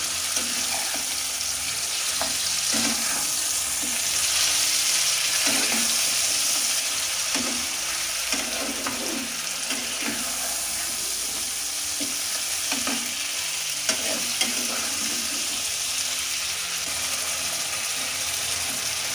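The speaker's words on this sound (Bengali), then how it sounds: "একটু ভালো করে নেড়ে নেবে" Chicken sizzles in a pan for gondhoraj chicken while a spatula stirs it. Repeated scraping strokes fall over a continuous loud frying hiss, with no voices.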